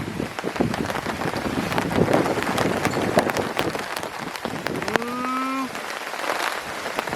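Steady rain pattering on a Chill Gorilla Base Camp tent rainfly during a thunderstorm in the woods, with wind gusts buffeting the fabric and a brief tonal creak partway through.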